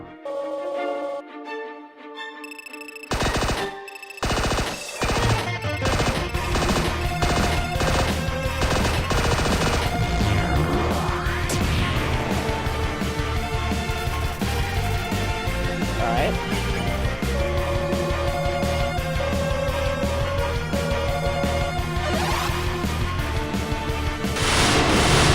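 Undertale game audio during the Asriel fight's Chaos Blaster and Hyper Gunner attacks: dense rapid-fire blasting and crashing effects layered over loud music, with a person talking at times.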